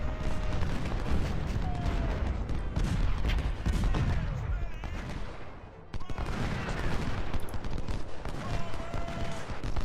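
Massed musket volleys crackle and roll between Civil War infantry lines in the strategy game Ultimate General: Civil War, dense overlapping gunfire with booming bursts, loud and continuous with a brief lull midway.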